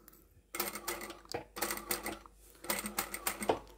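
A sewing machine stitches a fabric jar opener in three quick runs of rapid mechanical chatter separated by short pauses, close and fairly quiet, with no speech.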